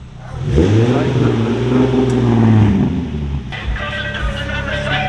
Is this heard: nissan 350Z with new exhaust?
yes